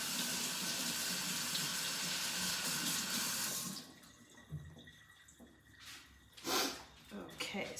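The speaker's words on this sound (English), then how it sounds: "we'll just rinse my brush here" Running water from a sink tap splashes steadily over a paint brush being rinsed, loud and continuous at first, then easing into quieter, intermittent trickles and splashes.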